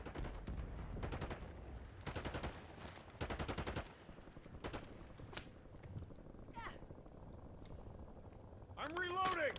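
Rapid automatic gunfire from Call of Duty Warzone comes in repeated bursts separated by short gaps, with a few sharp single shots and some game voices mixed in.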